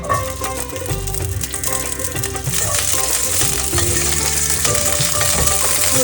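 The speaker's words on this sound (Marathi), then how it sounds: "एक चमचा तूप घातलाय आपण पहिल्यांदा घालूया लसूण" Garlic frying in a spoonful of ghee for a veg kurma, a close, steady sizzle that grows slightly louder midway, with light stirring and a faint tonal hum beneath.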